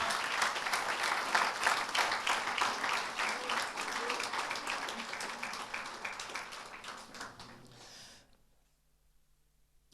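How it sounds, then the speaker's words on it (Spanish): A church congregation claps in loud, dense praise applause that carries on for several seconds, then fades and falls off to near silence toward the end. "Fuerte ese aplauso de alabanza al Señor."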